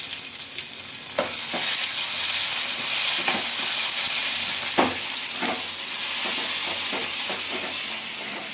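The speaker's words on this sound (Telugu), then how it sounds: "చింతపండు ఎల్లిపాయలు ఇంకా అలాగే టమాటో ముక్కలు ఇవన్నీ బాగా ఫ్రై చేసుకోవాలి" Tamarind, garlic and tomato pieces fry in a pan with a loud, steady, close sizzle, broken by occasional clicks and scrapes of stirring throughout.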